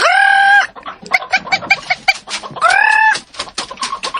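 Domestic chickens on a farm give several loud, close calls: two long drawn-out crowing or squawking calls at the start and near the end, with quick choppy clucks in between.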